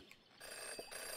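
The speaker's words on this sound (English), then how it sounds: "In her short time as a detective, Jenny had learned never to ignore a ringing phone." A telephone rings in the video game Jenny LeClue, a faint, steady electronic ring heard on its own with no talking.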